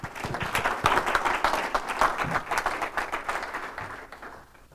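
An audience at an Ignite talk at The Entrepreneur Center applauds its speaker, Bill, and his dog, Twixie. A steady wash of clapping from many hands gradually thins and fades toward the end.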